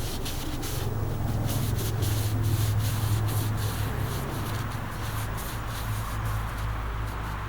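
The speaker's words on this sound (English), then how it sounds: "I'm just going to spray the whole wheel really good, and then just go through and wipe the entire thing off." A rag rubs and scrubs steadily across a car wheel coated in Plasti Dip spray, a continuous close, dense wiping and scraping with no pauses and no voices.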